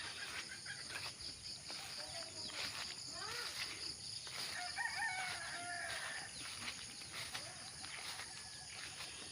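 Chickens cluck and a rooster crows at a distance over a steady rural outdoor background of buzzing insects, with calls recurring throughout.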